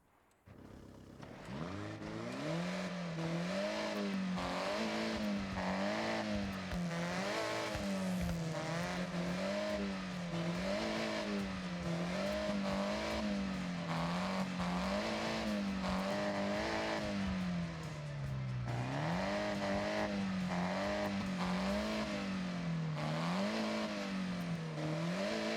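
Racing video game car engine revving loudly and continuously, with a steady high-pitched tone that rises and falls in rhythmic waves as the throttle cycles, alone with no talk.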